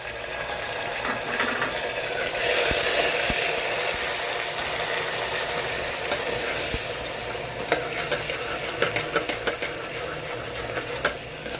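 Ginger garlic paste fries in a pan with a continuous sizzle and crackle, plus occasional scraping and tapping of a spoon.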